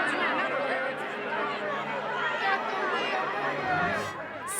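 A restless crowd at a fairground beside a Ferris wheel chatters in a dense, continuous babble of overlapping voices, with a burst of laughter near the end.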